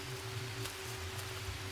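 Steady rain falling in the Green Hell jungle survival game, a soft continuous hiss with a low rumbling bed underneath, constant throughout with no talking.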